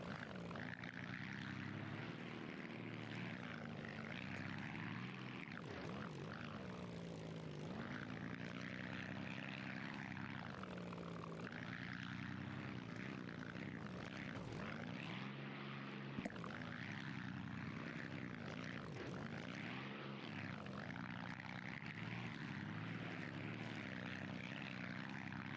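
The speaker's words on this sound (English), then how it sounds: "sounds are incredible on this motor" A drag racing car engine in BeamNG.drive drones continuously with rich harmonic tones, its revs swelling and dropping repeatedly over a long steady run, loud and alone.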